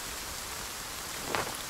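Rain falls steadily in the survival video game The Forest, a continuous hiss of drops on surfaces with a brief brighter splash near the end, no voices.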